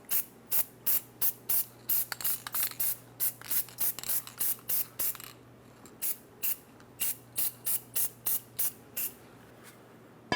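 Anti-seize sprayed onto the wheel hub of a 2003-2009 Dodge Ram 2500 5.7L V8, dozens of short sharp aerosol bursts in quick rhythmic runs, close and fairly loud, with no voices.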